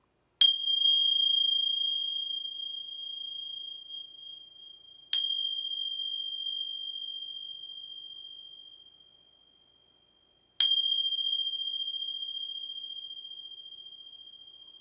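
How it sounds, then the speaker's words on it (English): A bell struck three times at slow, even intervals, each a bright metallic ding with a long ringing tone that fades gradually, loud and close with no talking. "So I'm going to ring some bells here. They may be a little loud."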